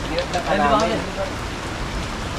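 Steady rain falls outdoors, a close, even hiss of drops on surfaces, with people talking over it at the start.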